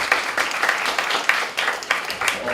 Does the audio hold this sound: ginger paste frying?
no